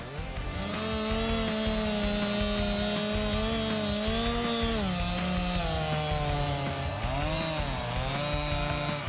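A heavy-duty Legend chainsaw cuts through logs with a loud, continuous high-revving drone whose pitch dips and rises as the chain bites into the wood.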